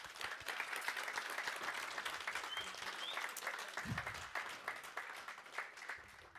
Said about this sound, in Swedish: En mycket stor applåd för alla de nominerade kennlarna.